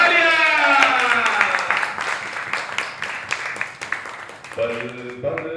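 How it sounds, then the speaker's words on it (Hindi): Party guests applaud in a dense wash of clapping that starts loud and gradually thins, overlapped at the start and end by a sustained sung or voiced tone. "तालियां।"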